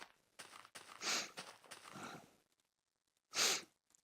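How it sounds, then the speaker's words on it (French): Several short, breathy nasal bursts come in quick succession, then a pause and one stronger sniff, close up with no talking. "Désolé, je renifle, hein."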